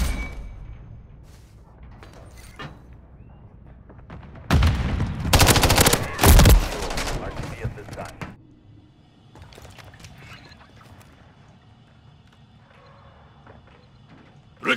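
Loud bursts of rapid automatic gunfire in the video game Call of Duty: Modern Warfare III during a team deathmatch, a dense volley in the middle between quieter stretches of distant shots and game ambience.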